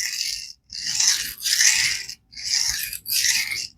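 A Kershaw Chill EDC knife blade is sharpened on DMT Dia-Sharp diamond plates of 220 and 600 grit, giving four close, loud, even rasping strokes separated by brief pauses.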